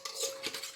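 Quick clinking and scraping of a utensil in a bowl as yeast, sugar, milk and flour are mixed for a light brioche dough, a short, close burst of stirring with no talk.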